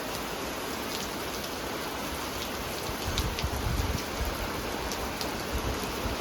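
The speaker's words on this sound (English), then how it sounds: "it started raining pretty hard." Heavy rain pours steadily just beyond a covered area in Kentucky, a dense constant hiss that swells a little louder partway through, with no voices.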